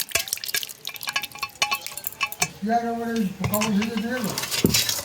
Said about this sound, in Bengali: এবার এটা ঝাঁঝরির মধ্যে দিয়ে ঢেলে নেব পরিষ্কার করে